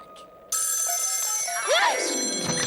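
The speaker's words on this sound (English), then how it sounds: "That was a tantalizing tintinabulation." A telephone bell rings in a haunted house, a sudden loud metallic jangle that starts abruptly and keeps shimmering, with a swooping tone sliding through the middle of the ring.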